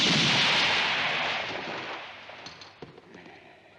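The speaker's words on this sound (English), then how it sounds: "Mighty good shooting." Gunshots in a western film, a loud booming burst that rolls and fades away, followed by a few fainter scattered cracks in the distance.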